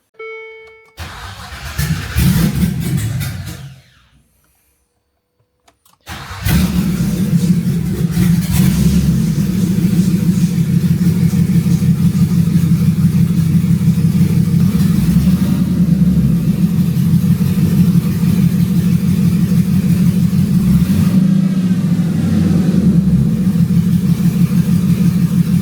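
A Land Rover Discovery II with an LS V8 swap cranks briefly, falls silent, then catches and roars to life, settling into a loud steady idle with a couple of revs partway through.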